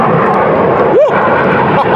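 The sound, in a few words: military jet aircraft flying overhead near air force base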